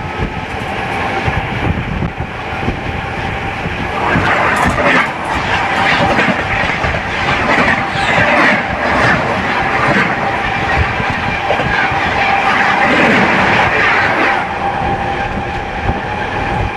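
A passenger train runs along the rails near Suraareddypalem station beside the NH 216 Chennai–Howrah bypass, with a steady loud rumble and clatter of wheels and cars throughout, swelling slightly midway, with no talk.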